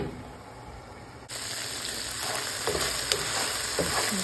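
Taco filling fries in a pan with a bright, steady sizzle that swells loudly after a lid comes off, joined by a few scraping stirs, close and without voices.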